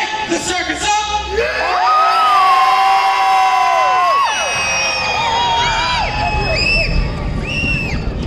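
A crowd screams and cheers at a haunted circus attraction, with loud, sustained wails and rising whoops that swell and overlap for several seconds, filling the space close by.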